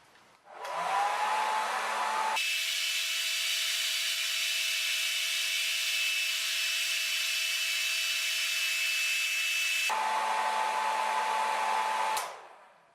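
A hair dryer runs steadily and loudly during a circuit breaker overcurrent test, shifting to a stronger, harsher whine partway through, then cutting out abruptly when the breaker trips.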